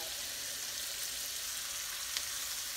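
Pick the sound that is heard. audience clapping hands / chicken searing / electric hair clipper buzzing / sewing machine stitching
chicken searing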